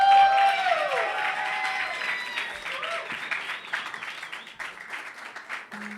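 A live concert crowd in a club bursts into loud applause and cheering that slowly fades into scattered clapping, with a voice briefly audible over the noise.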